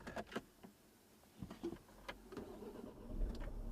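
A 2008 Renault Laguna starting after its key card went through a washing machine: faint clicks and whirs, then the engine turns over and rises into a low rumble, quiet and close.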